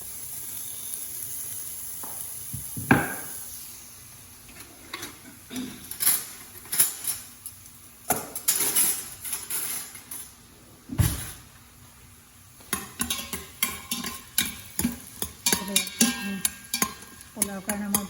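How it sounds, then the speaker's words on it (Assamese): Onions frying in a pan for pulao crackle and sizzle softly while a utensil scrapes and clanks against the pan in irregular bursts, growing busier and more rhythmic toward the end; no speech. "পোলাওৰ কাৰণে মই পিঁয়াজ ভাজিব দিছোঁ।"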